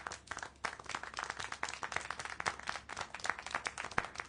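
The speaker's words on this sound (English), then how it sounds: "How can you clap?" Scattered handclapping from a small group in the game Syberia: The World Before, quick irregular claps layered into faint, distant applause with no talking over it.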